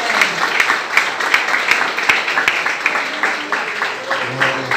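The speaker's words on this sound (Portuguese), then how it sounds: "Vamos receber o pastor com alegria, com as palmas." A church congregation applauds to welcome the pastor, with a lively run of close claps in an irregular rhythm and a few sharper individual claps standing out.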